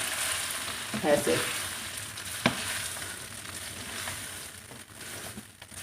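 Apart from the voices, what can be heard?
stirring sweet vermicelli in pan with spoon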